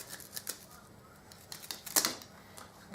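A folding knife blade slices through coarse manila rope, giving a few short, dry snipping and crunching bursts with one louder cut near the end, close and fairly quiet with no talking.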